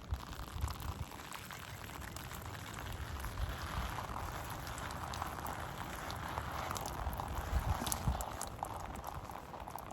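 Water trickles and patters into potting soil in seed-starting container cells, a soft, continuous splashing texture with faint low rumble and no voices.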